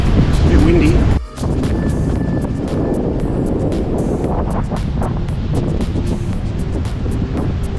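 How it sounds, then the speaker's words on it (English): Strong wind blowing across a beach on Fraser Island, a loud, constant rush buffeting the microphone, with the surf faintly underneath and a brief dip near the start. "It's a bit windy."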